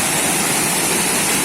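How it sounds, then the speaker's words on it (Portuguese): A waterfall on a jungle trail roars in a dense, steady rush of water, loud and close, with no other sounds. "Uma cachoeira diferente da outra."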